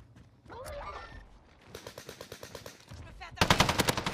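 Video game gunfire: a short burst early on, then a steady machine-gun rattle of rapid shots, ending in a louder, closer burst of automatic fire.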